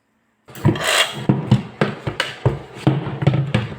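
Rhythmic wooden rasping strokes, about a dozen in quick succession, close and fairly loud, like a hand saw cutting through wood.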